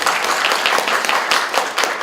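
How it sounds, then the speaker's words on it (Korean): Audience at an investor relations concert for crowdfunding companies applauds a presenter coming to the stage: brief, dense, continuous clapping from many hands in a hall, loud and even with no speech. "박수 한번 부탁드리겠습니다"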